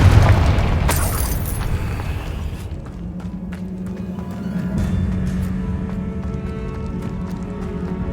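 A Confringo blasting spell goes off in Hogwarts Legacy inside an abandoned cave: a loud close boom with a crackling burst that fades into a long low rumble and scattered debris clatter.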